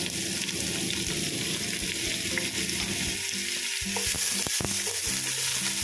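Ginger garlic paste frying in a pan for chicken biryani, a steady close sizzle with intermittent stirring and scraping clatter toward the end.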